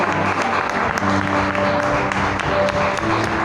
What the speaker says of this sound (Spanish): Aplauda a la Cristo, aplauda fuerte, fuerte